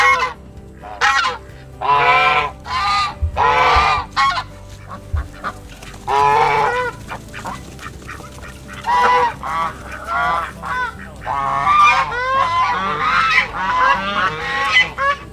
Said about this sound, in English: These geese are obnoxious.